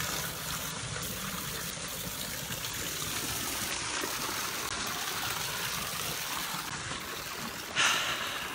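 Water flowing steadily outdoors, a loud continuous rushing stream with a brief louder splash near the end, no talking.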